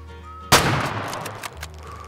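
A single hunting rifle shot fires in the hunting game Way of the Hunter, a sharp loud crack followed by a rolling echo that fades out over about a second and a half, with no voices.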